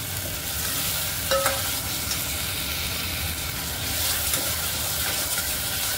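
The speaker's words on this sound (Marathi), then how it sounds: "डाळ टाकल्यानंतर पण थोडं परतवं" Dal sizzles and is stirred in a pan for methi khichdi, a close, steady frying hiss broken by spoon scrapes and a couple of metallic clinks.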